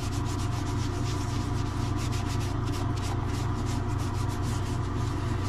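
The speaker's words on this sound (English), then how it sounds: "I just rub it all on my sheath." Beeswax leather conditioner rubbed onto a leather knife sheath for a Buck 110, a close, steady scrubbing friction in rapid repeated strokes with no voices.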